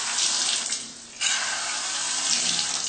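Water runs steadily from an electronic faucet, a close, loud hiss that briefly drops as the flow is cut and then resumes at full strength.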